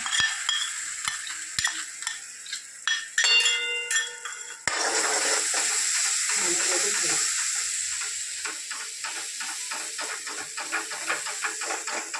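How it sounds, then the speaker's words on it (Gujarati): Masala paste hits a hot pan in a village kitchen and bursts into a loud, hissing sizzle that settles into steady crackling frying, after some early clinks and scrapes. "જરા મસાલા પેસ્ટ નાખી દઉં."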